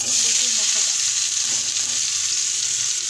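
Taro stems and chili sizzle loudly in hot oil, a steady close frying hiss that holds evenly throughout with no talking.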